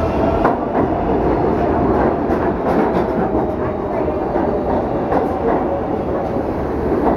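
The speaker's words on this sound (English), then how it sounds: "Going on the 4 train uptown this time." A New York City subway 4 train running uptown, heard from inside the car as a loud, steady rumble with rhythmic clickety-clack of the wheels on the rails.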